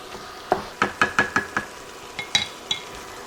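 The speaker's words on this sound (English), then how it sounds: "the meat is almost browned up" Ground beef browning in a skillet for a Mexican beef and rice dish, heard as a run of sharp utensil scrapes and stirring taps over a faint sizzle, with about eight distinct strikes spread across the stretch.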